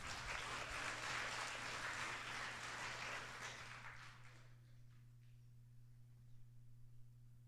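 A school audience at a spelling bee gives a brief round of applause for the contestants, a burst of clapping that fades after about four seconds and leaves a low steady hum.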